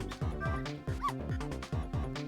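Cartoonish dog barks and yips in a video game, a rapid run of short, sharp, close bursts repeating at a bouncy rhythm over busy game music, with no talking.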